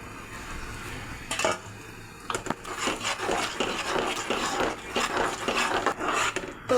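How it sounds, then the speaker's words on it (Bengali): A lentil mixture is added to cooking chicken for chicken haleem and stirred in a pot, with repeated scraping, clinking spoon strokes against the metal and a faint sizzle underneath, close and steady. "তো এই ডালের মিশ্রণটা দেওয়ার পর অনবরত ভাজতে থাকবেন, না হলে তলায় ধরে যেতে পারে।"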